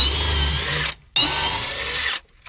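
A power drill drives big 6-inch lag bolts into timber on a wooden boat under restoration, giving two loud sustained whining runs with a short pause between them, close up and without speech.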